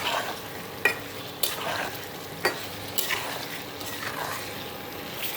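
Jackfruit and ground turmeric fry in oil while being stirred, giving a steady sizzle with several sharp scraping clatters of the spoon against the pan, with no talking.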